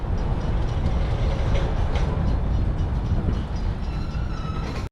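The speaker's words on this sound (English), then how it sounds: "We're still waiting for the train to pass." A train rumbles past close by, a steady heavy roar with rattling wheels that holds for the whole stretch before cutting off abruptly.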